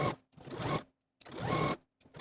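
A sewing machine stitches along the inner fold of fabric on a top, running in two short bursts separated by pauses, fairly quiet and close with no talk.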